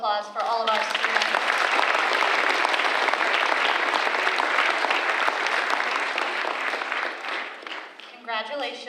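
Sustained, dense clapping fills the hall as an audience applauds students at a middle school culminating ceremony, with brief speech at the start and end.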